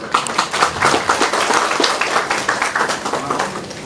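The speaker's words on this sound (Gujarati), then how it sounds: "તો આજના આ આનંદમય દિવસની શરૂઆત તમારા તાળીઓના ગડગડાટ સાથે કરીશું" A large audience at a charity trust's community event claps heartily, a dense, close burst of hand claps that stays loud and continuous throughout.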